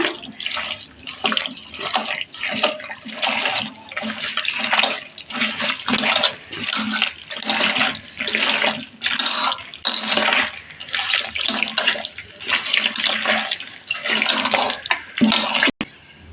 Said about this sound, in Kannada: ಒಂದು ಅರ್ಧ ಲೋಟ ನೀರು ಹಾಕೋತಾ ಇದ್ದೀನಿ.